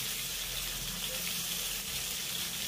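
Pieces of ash gourd frying in a pan over a medium-high gas flame give a steady, even hiss and sizzle, moderately loud and unbroken, with no voices over it.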